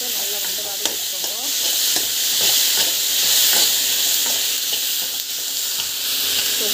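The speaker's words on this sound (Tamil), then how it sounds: "டமாட்டோ போட்டுட்டு நல்லா வந்து வதங்கி வச்சுக்கோங்க." Tomatoes sautéing with onion, chili and garlic in a pan for a mint chutney, giving a loud, steady sizzle and hiss with frequent scraping and stirring clicks throughout.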